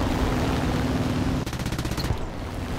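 A 7.7 mm machine gun rattles in War Thunder, a steady rapid string of shots cutting in midway over a constant engine drone from a Daimler AC Mk II armoured car, lasting under a second, with no talking.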